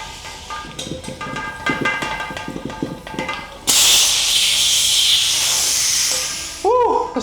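Compressor-powered sprayer applying a coat, a loud steady close hiss that starts abruptly after some clattering, runs for a few seconds, then stops and returns briefly.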